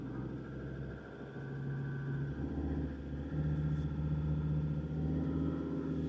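A 4WD in low range with the diff locked, working its way out of a sand bog: a low, steady engine drone that swells as it pulls, moderately loud, no voices.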